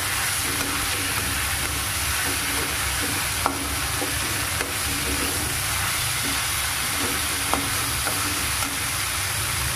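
Paneer fried rice with soy sauce and chili sauce is stirred in a pan, a continuous loud sizzle with occasional sharp scrapes and clicks of the utensil against the metal.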